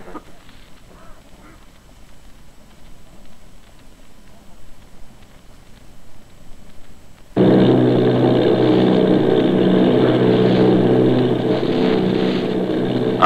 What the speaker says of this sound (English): Army bombing plane